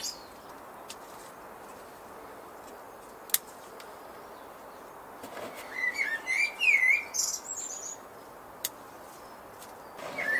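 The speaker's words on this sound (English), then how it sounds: "Mr. Bird agrees with me." A bird chirps in a spring garden among Japanese maples, a few scattered calls at first, then a brief burst of quick tweets at moderate distance over a low outdoor hiss.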